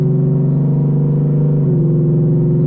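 Whipple-supercharged S650 Mustang GT with long tube headers pulling hard in third gear, a loud, steady droning engine tone that climbs slightly in pitch, heard from inside the car with no talking.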